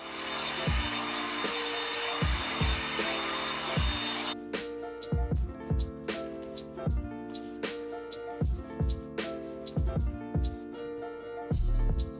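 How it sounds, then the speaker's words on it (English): A heat gun blows hot air to bend a homemade pistol crossbow bow, a steady loud whooshing roar that cuts off after about four seconds, followed by a series of rhythmic knocks and thumps. "use my heat gun again to permanently bend this upwards so it's like a nice U"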